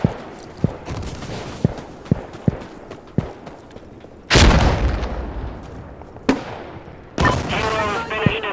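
Frag grenade exploding in Insurgency Sandstorm: a sharp, loud blast with a long noisy roar, set among scattered gunshots, a later second burst and some radio-style voices.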